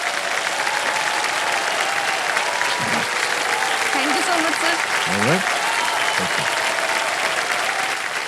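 Studio audience applause on a televised quiz show set, sustained dense clapping throughout while someone speaks briefly over it and a short thank-you is heard.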